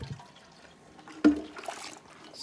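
Extremely hot water swirled inside a sealed milk container during cleaning of milking equipment, a soft liquid slosh and trickle with one sharper splash midway, close and fairly quiet, with no talking.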